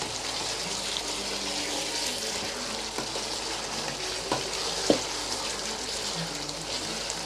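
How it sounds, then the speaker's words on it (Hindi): Ginger and spice masala frying in a pan: a steady close sizzle and hiss with a few sharp clicks and scrapes from stirring, quiet overall and without talking. "मटेरियल था सारा मैंने अच्छे से भून लिया इसको"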